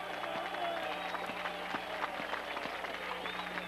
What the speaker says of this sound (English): this William and Mary crowd on its feet for the defense